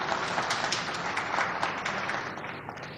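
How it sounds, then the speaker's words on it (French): Steady, dense applause from a conference audience in Kinshasa for visiting Chinese delegations at a China–DRC media forum, a continuous clatter of many hands at moderate distance with no speech. "J'espère un tonnerre d'applaudissements pour toutes les délégations chinoises qui nous accompagnent ces jours"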